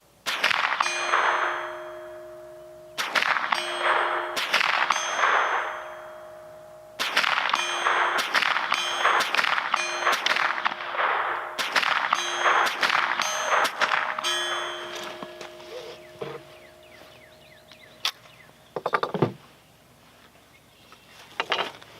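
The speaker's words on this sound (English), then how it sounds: "I'm gonna go ahead and take a few more shots at it and see how it does." Rounds from a Rossi RS22 semi-automatic .22 plinking rifle strike a metal target, about a dozen sharp metallic clangs with ringing tails, spaced irregularly in clusters and fading to a few sparser hits at the end.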